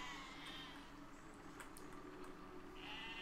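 A sheep bleats in the Besiege video game, a faint wavering cry at the start and another near the end, over a steady low hum of game noise.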